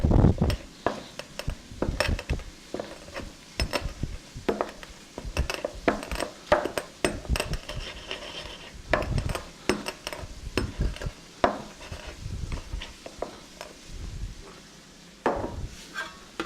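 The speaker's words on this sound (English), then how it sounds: "you just take whole pepper. You use the bottom of a pan, a good sturdy pan, and you just crush it" Whole peppercorns crushed under the bottom of a sturdy pan during beef stew preparation: repeated hard knocks and grinding scrapes of metal against the board in an uneven rhythm, close and fairly loud, with no talk.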